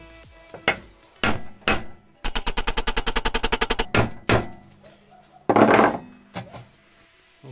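A hammer strikes a badly rusted caliper, loud close metallic blows that come singly, then in a fast even burst of about twenty hits, then in scattered pairs, with pauses between.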